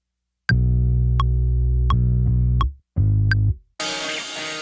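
A deep, low-end bass guitar tone from a shoegaze-style riff sounds as two heavy sustained notes with crisp pick clicks, close and loud, then a burst of hiss closes the clip.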